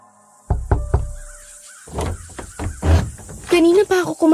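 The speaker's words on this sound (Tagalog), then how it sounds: "Kanina pa ako kumakatok ah." Knuckles rap on a house door in a Filipino horror audio drama, with three quick, close knocks followed by further thuds as a person begins speaking.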